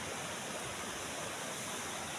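River water flowing steadily, a dense, even rushing hiss close by with no breaks, heard on its own without any talking.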